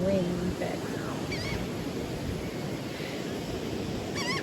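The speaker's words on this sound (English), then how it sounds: "I don't know if y'all can hear us because of the wind background." Steady wind buffets the microphone on a Charleston beach, a continuous broadband rush with surf underneath, while brief distant calls or voices come through faintly.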